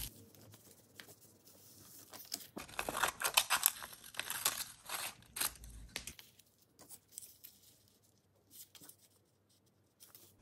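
Scissors trimming paper for a craft journal page: several seconds of close, crisp snipping and rustling in a burst, with softer paper handling sounds before and after in a quiet room.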